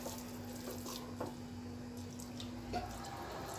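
Water trickles into semolina dough in a soft, steady pour with faint splashing, quiet and unaccompanied by talk.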